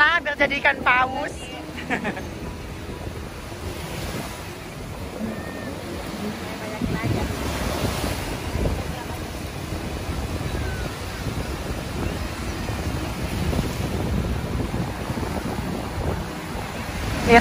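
Ocean waves wash onto a beach at Pattaya in a steady surf roar with wind buffeting the microphone, while people talk and call out over the water noise throughout.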